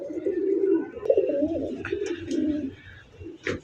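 Blue Bar Budapest pigeons, a nesting pair on eggs, give a steady close, throaty cooing that rolls on almost without a break, with a faint sharper sound near the end.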